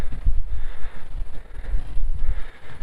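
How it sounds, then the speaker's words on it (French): Gusty wind blowing outdoors at a mountain viewpoint near the Demoiselles Coiffées de Pontis rock formations, rumbling low and buffeting in uneven surges across the whole stretch with no talk. "Il y a un peu de vent."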